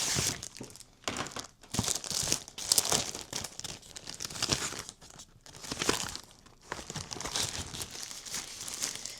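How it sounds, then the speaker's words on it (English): Paper sheets are handled and fed into a printer while making simple bookmarks, giving repeated close crinkling and rustling bursts in an irregular rhythm, with no talking. "So I'm going to go ahead and load this in the printer, and then we'll get to print."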